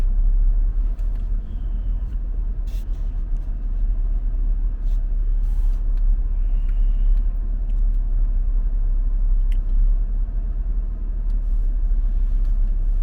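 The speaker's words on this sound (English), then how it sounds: "as you can see, maybe, the traffic behind me is deep." Road traffic behind a moving car gives a steady low engine and tire rumble inside the cabin, continuous and fairly loud, with a few faint clicks and higher tones above it and no speech.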